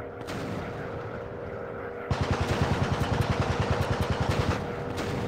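Anti-aircraft flak guns pound at a bomber in the VR World War I air combat game Warplanes WW1 Fighters, a rapid rhythmic string of heavy thumping shots over a droning aircraft engine, lasting a few seconds.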